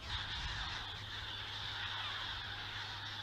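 A gull colony calls in alarm, a steady chorus of harsh, honking cries layered over one another at a distance, faint and continuous, with no talking.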